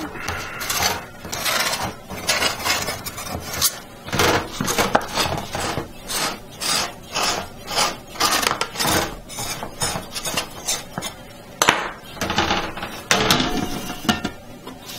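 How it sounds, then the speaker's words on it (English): The back of a knife run around the inside edge of a lemon chiffon cake pan: repeated close scraping and rubbing strokes in an uneven rhythm. "take a knife, the back of a knife, not the blade, and just go around the outside"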